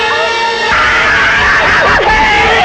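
Zombie's scream from the 1966 horror film The Plague of the Zombies, a loud, harsh, wavering shriek with swooping pitch, layered over a tense music score and sharp stings.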